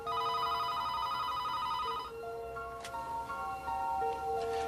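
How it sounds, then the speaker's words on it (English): A telephone ringing indoors late at night, a tonal electronic ring that sounds for a couple of seconds, pauses, then starts again more faintly. "We were just getting ready to watch a video when the phone rings."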